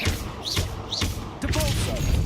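The Depulso spell is cast in Hogwarts Legacy, heard as a few quick whooshing swoops with thuds, followed by a brighter magical shimmer, all close and fairly loud.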